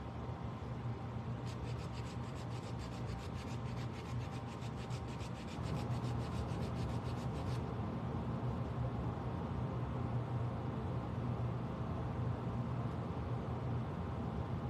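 Hand-sanding a small craft piece, a steady close rasping rub that continues throughout, with a quicker scratchy stroking passage early on; soft and even, with no talking.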